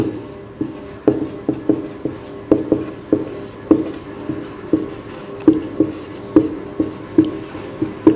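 Pen or marker writing chemical equations on a board during a class, producing a steady series of short, distinct taps and strokes at a brisk rhythm, close and clear with no talk.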